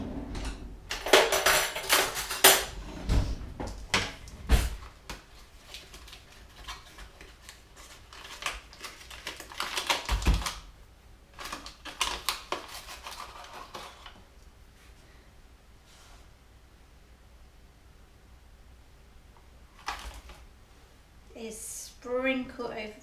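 A metal sieve is tapped repeatedly to dust sugar over a Swiss roll sponge: bursts of rapid, close, rattling taps, loudest early on, with quieter scattered taps and pauses later.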